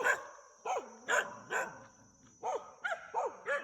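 Several dogs bark near a mountain monastery, roughly eight sharp barks in irregular bursts, some doubled and overlapping, fairly close and loud, over a faint steady high tone.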